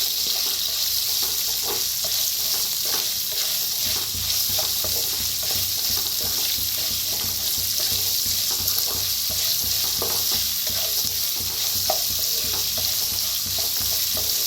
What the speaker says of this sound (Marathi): तर कांद्याला बी चांगलं भाजून घ्यायचं